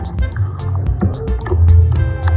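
Water poured into vegetable fritter batter and stirred, a close, loud wet sloshing and squishing with dripping, continuous over low background noise.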